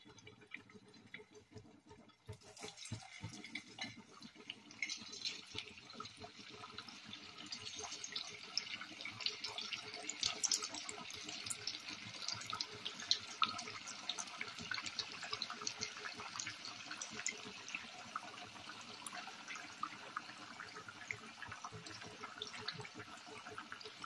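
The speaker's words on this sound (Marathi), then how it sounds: "आता आपण तेल तापले, आता आपण वडे टाकूया" Sabudana vadas fry in hot oil with a dense, continuous crackling sizzle that rises after a brief quieter start and holds steady throughout, fairly faint overall.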